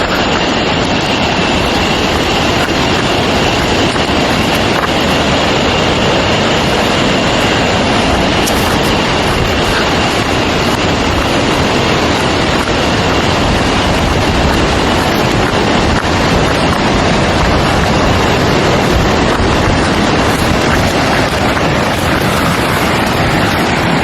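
Khun Phra Wo waterfall in Mae Ramat, Tak, roars with a loud, steady wash of rushing water close by, unbroken and dense throughout, with no voices over it.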